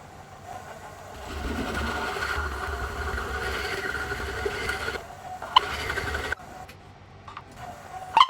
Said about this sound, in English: Then I can swap this out for the 30mm Forstner bit and bore the hole